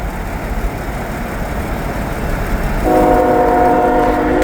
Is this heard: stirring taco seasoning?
no